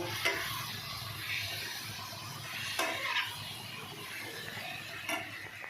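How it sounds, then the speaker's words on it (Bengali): Onion and garlic being stir-fried with soaked cumin, turmeric, coriander and Kashmiri red chili powder, a soft sizzle under scraping strokes of a spatula against the pan, with a few sharper clinks, fairly quiet. "আগে থেকে ভিজিয়ে রাখা জিরে হলুদ ধনে আর কাশ্মীরি রেড চিলি পাউডার দিয়ে ভালো করে কষিয়ে নেব"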